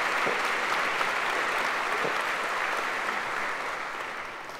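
Sustained applause from a concert audience at a parish church event of Polish songs, dense and steady, gradually fading toward the end with no voices over it.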